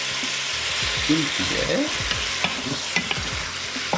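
Flour being stirred into meat sizzling in a frying pan for a blanquette, a steady crackling fry with scraping spoon strokes, and a voice briefly speaking.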